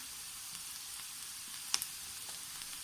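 Chicken with spices roasting in a pan gives a soft, steady sizzle, faint and even, broken by one sharp clink of a utensil near the middle.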